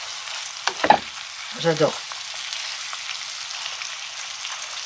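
Lamb tagine with Tarbais beans and sweet potatoes stirred in a pot, a soft continuous sizzle with a couple of brief scraping stirs, and a short spoken word cutting in near the start.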